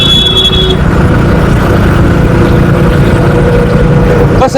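Heavy road traffic on a busy paved road outside a shopping mall, many vehicles producing a loud, continuous engine rumble and roar close by for the whole stretch, with no voices over it.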